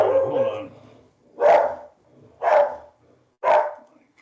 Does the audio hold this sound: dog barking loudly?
yes